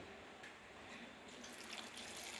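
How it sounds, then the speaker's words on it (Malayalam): A glass of water poured into a cooking pot while making mango elavan curry, a soft steady splashing pour heard up close that brightens toward the end. "ഒരു ഗ്ലാസ് വെള്ളം ഒഴിച്ച് അടുപ്പിൽ വേവിക്കുവാൻ വയ്ക്കുക."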